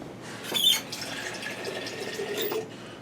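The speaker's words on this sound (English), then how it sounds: "I'm going to add about 1/4 of a jar of water in there" Water is poured from a jar into a pressure cooker holding taco chili, a short splashing fill that swells briefly at the start and then runs as a steady, quiet trickle with no talking.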